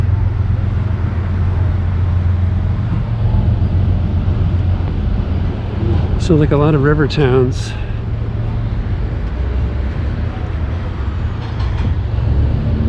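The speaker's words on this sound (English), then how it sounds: "there's another freight train in a parallel line further in" A steady low rumble of a freight train rolling past in Davenport, Iowa fills the background, with a brief squealing, whining burst midway, while a person talks over it.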